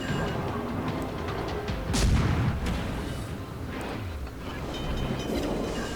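French destroyer guns fire salvos in the World of Warships naval game, heavy booming blasts over a constant loud rumble of wind and engine noise, with one especially strong burst about a third of the way in.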